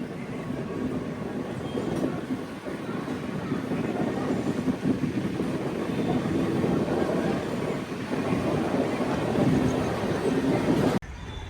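An Anantapur–Bengaluru MEMU passenger train runs along the rails with a steady, loud rumble and rattle heard from on board, continuous for the whole stretch with no talk.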